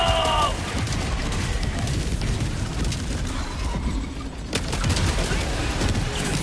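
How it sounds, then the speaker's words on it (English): Napalm barrage in the video game Helldivers 2: a dense, continuous rumble of overlapping explosions and booming bursts, moderately loud, with a sharper burst near the end. "gonna let that napalm barrage cook"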